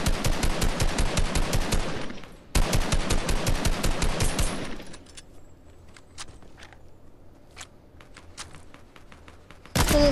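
Video game gunfire, heard as two long bursts of rapid automatic fire that are loud and close, then scattered single shots at lower level, then a final burst. No talk is heard.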